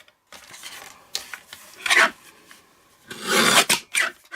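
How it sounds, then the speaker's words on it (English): Kraft cardstock being trimmed on a paper trimmer, with several rasping slides and scraping strokes of varying length, close and clear, separated by brief quiet pauses. "So now I want to trim down my cardstock so that it is 3 1/4 inches."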